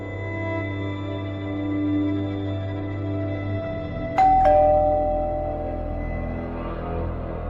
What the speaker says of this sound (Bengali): কলিং বেলটা বাজিয়ে বেশ কিছুক্ষণ দাঁড়িয়ে থাকলেন অরুণ দেশাই